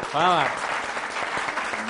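An audience claps at a Pashto singing gathering. The applause is a steady, moderate patter that follows a brief voice at the start and carries on to the end.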